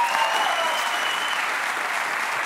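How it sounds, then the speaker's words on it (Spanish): Studio audience applause on a Spanish late-night talk show, a dense, steady roar of clapping from a large crowd, loud and continuous throughout with no talk over it. "pues un aplauso para Jorge Ponte, que está en la calle"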